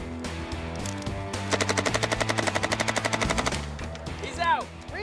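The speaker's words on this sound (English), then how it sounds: "But will that get them a cinematic span of continuous fire?" A machine gun fires a continuous, rapid burst of evenly spaced, loud shots for about two seconds over a droning musical background, followed by a rising whoosh.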